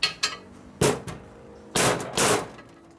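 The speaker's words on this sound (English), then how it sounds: "we're going to knock out the cam bearing. So for that, I use a metric socket" Several sharp metallic hammer blows drive a metric socket against the cam bearing in a 1958 Harley-Davidson FLH panhead engine case, struck in irregular bursts with a couple of heavier ringing hits, loud and close with no talk.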